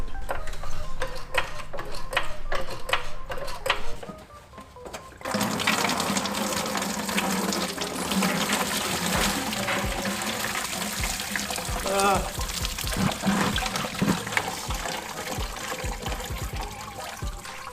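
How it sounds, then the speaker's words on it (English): Coolant draining from the radiator of a Nissan SR20DET-engined car, a steady splashing and trickling stream that briefly quiets and then gushes again, with tool clatter and a person talking over it. "drain the coolant and pull the old stuff out"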